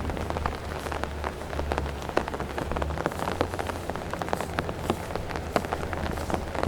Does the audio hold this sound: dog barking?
no